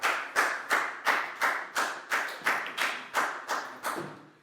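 Classroom of Year 4 pupils clapping for classmates after a science demonstration, about eleven slow, evenly spaced claps in a steady rhythm, fairly close and clear with no talking.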